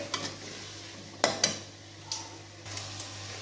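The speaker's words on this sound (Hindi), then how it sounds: "नमक, मसाले को अच्छे तरीके से भून लेंगे।" Salt, red chilli and spices roasting in a pan, with a soft continuous sizzle and a few sharp scrapes of a spoon against the pan.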